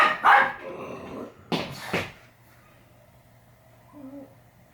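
Dog barking nearby in a home, two or three sharp loud barks early on followed by quieter sounds and a low hum.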